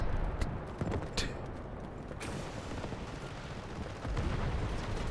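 Distant and mid-range gunfire in the shooter game Delta Force, with scattered sharp shots and rumbling bursts over a dense, noisy battlefield bed, no voices.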